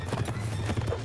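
Horse hooves galloping in the video game Mount & Blade: Warband, with rapid rhythmic clip-clop beats during a battle charge, loud and close over game noise.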